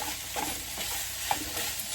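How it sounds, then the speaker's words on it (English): Ground meat browning in a soup pot with salt and black pepper is stirred over a steady, close sizzle, with a few soft scrapes and no voices. "Get that mixed in. And just browning very nicely."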